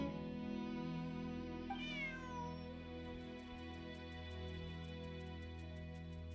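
Bonnie, a cat in the video game Genshin Impact, meows in a single drawn-out rising cry over a steady layer of background music, faint and gentle in the mix.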